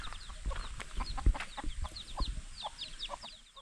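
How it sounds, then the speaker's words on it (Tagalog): Native chickens and about eight chicks cluck and peep outdoors, with repeated short chirps and soft clucks scattered through, moderately close and alone. "Ang dami ng sisiw eh, walo."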